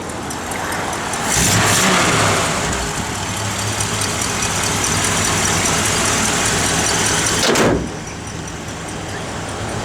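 A 1959 Ford Fairlane 500 Galaxie engine runs steadily throughout, with a brief louder surge near the start and a sharp burst late on, no talking.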